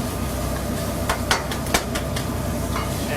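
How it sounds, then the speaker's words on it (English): Pita filling sizzles steadily on a very hot food truck grill, a dense continuous frying hiss with a few sharp scrape and stir clicks from a utensil, close and alone without talk. "It's sizzling."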